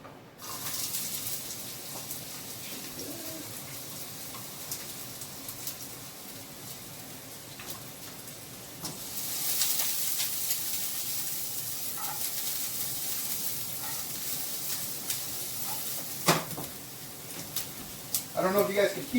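Chopped onion frying in a hot pan while making fried rice, giving a continuous broadband hiss and crackle that swells partway through, with a person talking over it.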